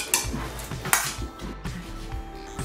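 Metal utensil clinking and scraping against a bowl while salad dressing is mixed, a few sharp knocks followed by softer irregular stirring scrapes, close up and with no talk.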